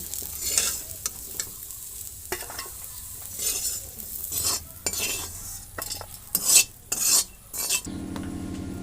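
Fried cauliflower florets being lifted and scraped out of a hot pan with a metal spatula, steady oil sizzle under intermittent scrapes and clinks, ending with a short lower-pitched rattle near the close.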